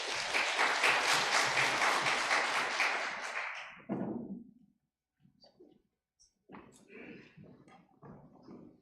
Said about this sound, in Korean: 앞으로 좀 나오실 때 박수로 환영하시겠습니다